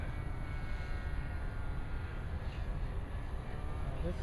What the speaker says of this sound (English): Nice low pass there, engine speed coming up to climb out.